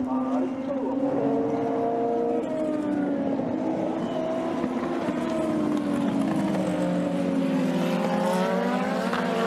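Super Formula race cars battling at Motegi, several high engine notes rising and falling together as the cars chase each other, with a commentator talking over the steady roar.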